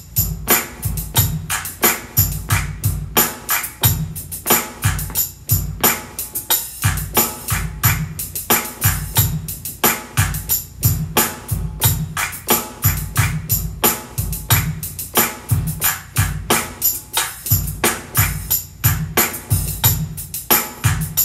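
A Korg PA1000 arranger keyboard drum pattern at 90 BPM, steady looping kick and snare hits with busy, varied hi-hat work, loud and regular with no other voices.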